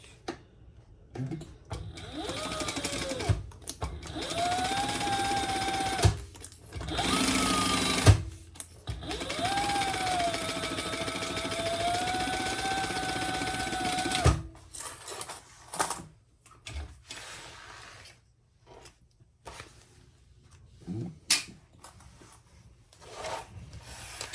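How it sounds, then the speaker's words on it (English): A sewing machine stitches the bottom seam of a hobo-style shoulder bag's exterior, running in several steady whirring bursts separated by short pauses and handling sounds, close and with no talk. "the next step is to stitch our bottom of our exteriors, and then we're going to turn it and top stitch"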